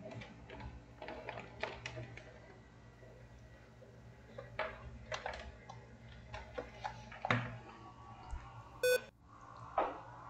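Computer being switched on at a desk: scattered light clicks and taps, then one short, clear electronic beep near the end, all fairly quiet.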